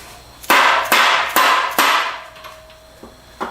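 A rubber dead blow hammer lands four firm, close blows in quick succession, each with a dull thud and a short decay, followed by a couple of much fainter knocks.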